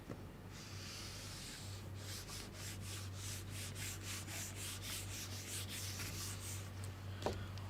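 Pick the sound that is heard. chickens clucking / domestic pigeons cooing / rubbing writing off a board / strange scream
rubbing writing off a board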